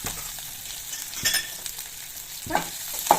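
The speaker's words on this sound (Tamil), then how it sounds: "நல்லா வந்து ஃப்ரை பண்ணிக்கலாம்." Onions with coriander and curry leaves frying for a mushroom gravy, a continuous close sizzle broken by a few sharp scraping stirs of a spoon, with no talking.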